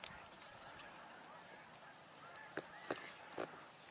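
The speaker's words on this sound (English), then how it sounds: "Hear the Canada geese." Canada geese honking at a wetland stopover with ducks nearby, one loud nasal call early on followed by a few short, fainter honks spaced out over quiet background.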